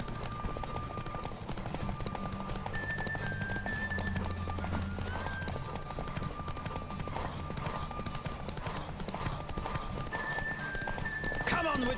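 Horse galloping in a race in the video game The Witcher 3, steady rhythmic hoofbeats with occasional neighs under a continuous game soundtrack, with game characters shouting over it.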